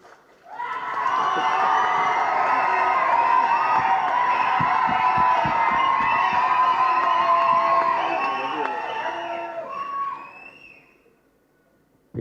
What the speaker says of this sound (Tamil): சொல்லாமலே இவ்வளோ கைத்தட்டலாம்